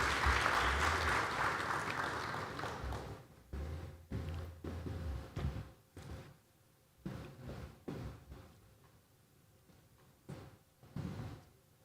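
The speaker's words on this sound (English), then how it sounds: "Another warm round of applause," A conference audience at an aviation week event gives a round of applause that starts full and loud, then thins into scattered bursts of clapping separated by brief lulls.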